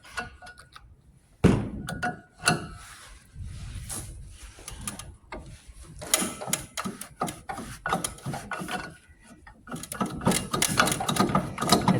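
Stuck engine on a 1970s Sno Jet snowmobile being rocked back and forth by hand, giving irregular close knocks, thunks and mechanical rubbing with short bursts and pauses.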